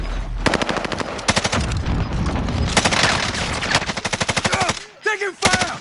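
Rapid bursts of automatic gunfire rattle through a Call of Duty match, loud and close, in long strings broken by brief pauses, with a few isolated shots near the end.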